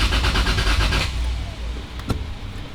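Toyota Supra with a 2JZ-GTE engine cranking on its first start attempt, a fast rhythmic starter churn for about a second that stops without catching, followed by quiet with faint clunks.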